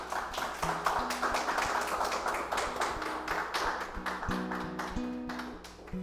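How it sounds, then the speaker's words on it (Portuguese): Congregation applauding after a baptism at an online church service, a steady dense clatter of many hands clapping throughout, fairly close and sustained with no talk. "Uma salva de palmas, por favor."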